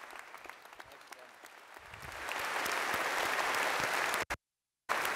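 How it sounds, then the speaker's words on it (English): At a University of Waterloo convocation ceremony, an audience begins with scattered claps that swell into full, sustained applause, which cuts off abruptly near the end. "Let's give him a nice round of applause."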